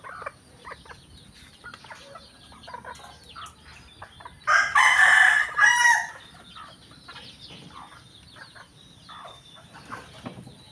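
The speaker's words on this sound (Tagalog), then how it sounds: "Yan, native chicken ating timbangin." A native chicken rooster crows loudly once, a long strained call standing out over scattered soft clucking and faint farmyard background noise.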